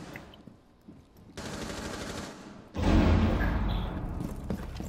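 Automatic gunfire and blasts in the tactical shooter game Rainbow Six Siege, rising from a rattle into loud, dense bursts of rapid shots with a heavy low rumble, with no talk over it.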